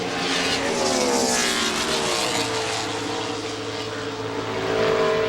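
A NASCAR stock car roars through a qualifying lap at the 2001 Southern 500 pole session, its loud engine note sweeping and shifting pitch as it passes, heard on its own without talk.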